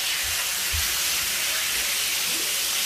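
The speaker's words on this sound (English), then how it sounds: "You hear that sizzle?" Chicken sizzling in a hot pan for a lettuce wrap, a loud, dense, continuous hiss of frying close up with a few low thumps, and no talking.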